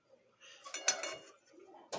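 Mustard oil being mixed into cooked dhenki greens in a pan, with a few soft metal-on-pan scrapes and clinks, quiet and close, with a brief louder clatter near the end.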